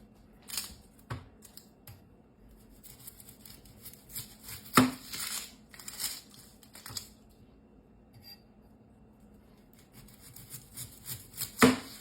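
Knife slicing onions on a Prepdeck Gen 2 prep and storage station, quiet sparse taps and crisp cuts against the board spaced irregularly, with a few sharper knocks standing out.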